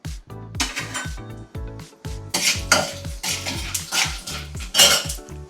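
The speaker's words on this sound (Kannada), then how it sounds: "ಈಗ ನಾನು ತೊಗೊಂಡಿರೋ ಎಲ್ಲ ಐಟಮ್ಸ್ನು ಫ್ರೈ ಮಾಡ್ಕೊಳ್ಳೋದಕ್ಕೆ ಹಾಕೋತಾ ಇದ್ದೀನಿ" Urad dal poured into a pan for frying gives a run of metallic clinks and scraping stirs in an uneven rhythm, close and fairly loud, with light rattling of grains and no voices.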